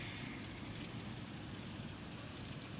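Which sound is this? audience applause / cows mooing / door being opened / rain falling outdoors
rain falling outdoors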